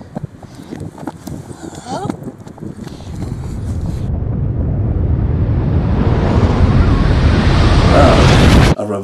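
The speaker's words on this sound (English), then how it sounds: "A reverse explosion." Reversed explosion effect: a roar that swells steadily from quieter rumbling into a loud, dense rushing wall of noise before cutting off abruptly, with muffled speech-like sounds early on.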